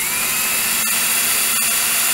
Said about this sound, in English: we're just going to drill out a little bit so that the screw can work its way all the way through